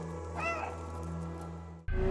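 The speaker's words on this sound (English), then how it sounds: "The cherry on top, it has a dedicated meow button." A cat in a video game gives a single clear meow, heard alone over a soft game music bed before the audio cuts abruptly to louder sound.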